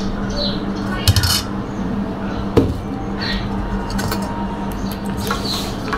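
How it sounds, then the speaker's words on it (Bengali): Wood apple pulp pushed through a sieve with a spoon, giving repeated light metallic clinks and scrapes over a steady background hum, close and fairly loud. "একটি চামচের সাহায্যে এভাবে নাড়াচাড়া দিলেই কিন্তু বেলটা দেখতে পাচ্ছেন বের হয়ে আসছে"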